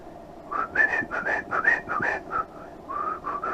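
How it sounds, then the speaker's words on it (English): Someone whistles a quick, bright melody alone, in short rising and falling phrases with brief breaks between them, close and fairly loud. "I can whistle loud, but I just can't whistle softly."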